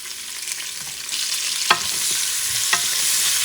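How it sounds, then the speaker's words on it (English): Onions, carrots and garlic fry in a pan for Portuguese duck rice, giving off a steady close sizzle broken by two sharp stirring scrapes, with no talking. "I'm going to add the onions. And I'm going to add the carrots,"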